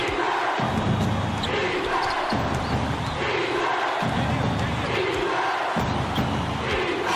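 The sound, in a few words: crowd cheering in College Basketball 2K8 video game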